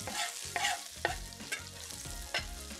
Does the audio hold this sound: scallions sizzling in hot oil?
yes